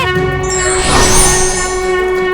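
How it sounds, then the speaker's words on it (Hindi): A conch shell sounds a long, loud, sustained blast, its steady tone swelling and brightening in the middle before holding on, with no talking. "ये तो आपके ही शंख की ध्वनि है स्वामी"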